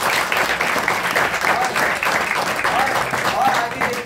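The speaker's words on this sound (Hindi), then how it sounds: "एक बार सर के लिए जोरदार ताली जरूर" Indoor audience at a business talk applauding a speaker, a loud, continuous wash of clapping from a large group, close and sustained throughout with a few faint whistles or voices mixed in.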